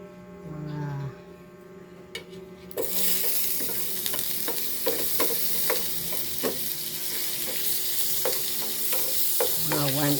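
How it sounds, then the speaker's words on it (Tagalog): Butter melting in a pan on a stove bursts into loud steady sizzling after a quieter stretch with a faint voice, then continues with scattered crackles and utensil clicks, close by. "Mga BFF, magtunaw na tayo ng butter."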